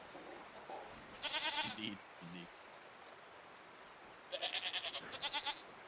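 Baby goats bleat in short, bossy bursts in a medieval role-playing video game, two clusters of rapid, wavering cries over soft background noise, with a brief spoken word between them.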